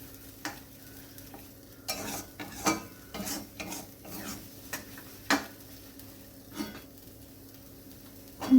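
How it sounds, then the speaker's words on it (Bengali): Paneer and peas stirred constantly in a kadai with a spatula, scattered scraping clanks at an uneven pace over a faint sizzle and low hum, close up with no speech. "এটা অনবরত আমি নেড়ে যাব, যাতে কড়াইতে লেগে না যায়।"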